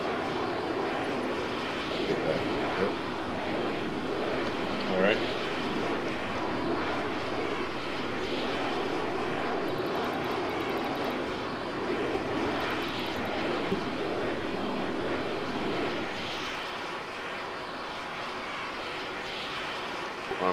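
Steady, loud drone of an aircraft engine in flight in the video game Arma, a continuous even roar that holds for the whole stretch with slight swells and no talking over it.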